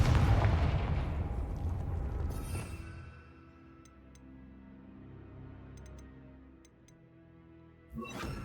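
The Confringo fire spell in Hogwarts Legacy lands as a deep, rumbling blast that slowly dies away, followed by faint ticking chimes and a quieter low hum, then a fresh burst of noise at the very end.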